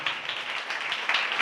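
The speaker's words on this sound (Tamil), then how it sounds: "நல்ல கைத்தட்டி தேவனை மகிமைப்படுத்துங்களேன்." A church congregation claps their hands together in steady, dense applause, a crowd of many close hands sustained for a short burst.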